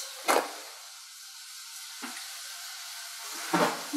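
A pot of canned fire-roasted tomatoes and vegetables is stirred, giving three brief scraping, sloshing strokes over a low background hiss, near and moderately loud, with no talking.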